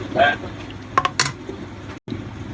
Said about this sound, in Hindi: बस अब हम आलूओं को निकाल लेंगे अच्छे तरीके से